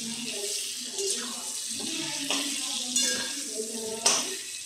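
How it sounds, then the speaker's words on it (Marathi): Eggplant pieces sautéed in oil for a homemade masala vegetable dish, a soft steady sizzle with faint stirring clinks, fairly quiet and continuous. "आता आपण चांगले तेलात परतून घ्यायचे वांगे।"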